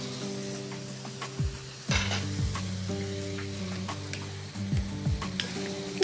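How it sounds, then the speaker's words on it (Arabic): Small shrimp, mushrooms, corn and green chili and colored peppers stirred together in a hot pan make a continuous close sizzle, broken by several scraping utensil strokes and soft knocks against the pan. "نخلطه كله مع بعض"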